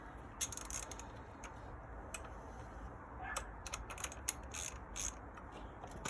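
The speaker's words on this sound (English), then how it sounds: "Take off the 2 bolts that hold the fuel filter to the housing." A ratchet wrench undoes the two bolts holding the fuel filter to its housing on a 2016 Ford Edge, giving quick bursts of sharp clicking spread through the clip over a low, steady background.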